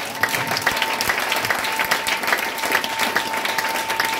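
Congregation at a church service breaks into sustained applause, many hands clapping densely and evenly, with a faint tonal hum beneath the crowd.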